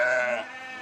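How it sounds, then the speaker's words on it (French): A single close, clear bleat from a ewe in a flock of 500 sheep being readied for summer transhumance to alpine pasture in the Diois, Drôme, fading out after about half a second. "La transhumance de ses 500 brebis aura lieu début juin."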